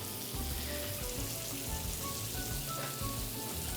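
Duck breast searing in a hot pan, a steady dense crackling sizzle with fine popping spatter, close and continuous, no talk over it.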